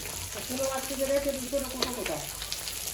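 Fish frying in a pan in a home kitchen, a steady soft sizzle with faint stirring clicks throughout, alongside a low humming tone.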